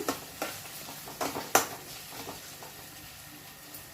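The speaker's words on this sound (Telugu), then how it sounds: "అల్లం పేస్ట్ వేస్తున్నాము" Onions fry in a pan with ginger paste added while being stirred for a prawn fry. A soft, low sizzle runs under a few scraping spoon strokes and light clinks against the pan, with no talking.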